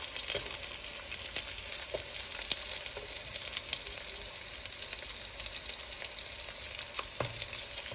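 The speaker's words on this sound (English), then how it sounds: "After you've added all of your onion, you just want to give it a nice stir around in the oil" Onions frying in oil in a pot for a thick beef stew, a steady close sizzle throughout with soft stirring scrapes and a few clinks.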